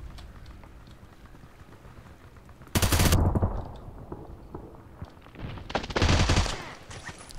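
Machine gun fired from the hip in the online shooter Contract Wars, two loud sustained bursts of rapid fire a few seconds apart, with quieter game ambience and clicks between them.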